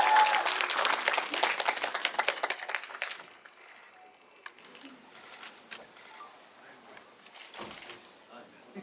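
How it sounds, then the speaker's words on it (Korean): An audience at a film screening Q&A for the movie Revolver claps to welcome director Oh Seung-wook and actor Kim Nam-gil, lively applause for about three seconds that then thins out into quiet room noise with scattered faint claps. "오승욱 감독님과 김남길 배우를 큰 박수로 맞이하겠습니다"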